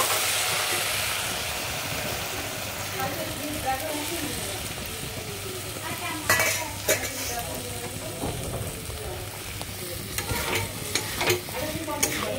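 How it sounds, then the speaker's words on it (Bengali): Potatoes, paneer and peas sauté in a pan, a continuous sizzle with a spoon stirring and scraping, while someone talks over the cooking. "একটু কষিয়ে নেবে।"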